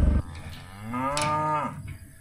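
Farm cattle let out a single loud, drawn-out moo that rises and then falls, close by and with no voices over it.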